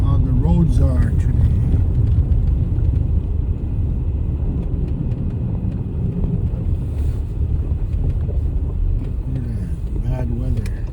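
A car drives the roads of Utqiagvik, Alaska, in a blizzard with cold wind: a steady low rumble and wind buffeting on the microphone, with people talking over the noise now and then.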